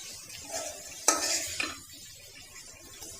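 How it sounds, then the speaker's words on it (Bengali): Spices sautéing in a pot while goat meat curry is cooked, giving a soft scraping stir with two sharp metallic clinks against the pot over a quiet, low sizzle. "তারপরে মশলাটাকে একটু সুন্দরভাবে কষাইতে হবে।"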